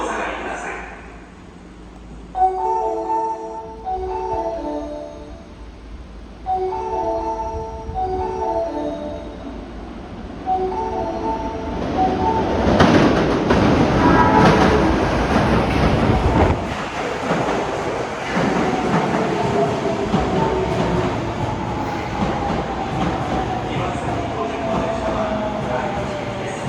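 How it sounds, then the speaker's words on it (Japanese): An Osaka Metro Tanimachi Line train pulls into Moriguchi Station, which has platform screen doors. A repeating chime melody and platform announcements come first, then the loud rumble of the arriving train with a rising brake whine. "2番線に第二行きが到着します。"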